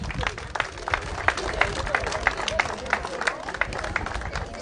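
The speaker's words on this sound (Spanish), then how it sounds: "Brindémosle un fuerte aplauso" Audience applause at the inauguration of a children's park in Catamayo, a moderate crowd clapping in an uneven patter with a faint murmur of voices underneath.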